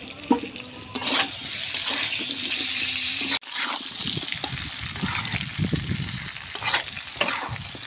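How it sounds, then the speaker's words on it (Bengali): Potatoes frying in hot oil in a pan give a loud, continuous crackling sizzle. Scraping stirs run through it, with a sharp momentary break partway through before the frying noise resumes. "এবার আমি আলুগুলো ভেজে নেব।"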